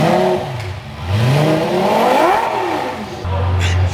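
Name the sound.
twin turbo Lamborghini engine revving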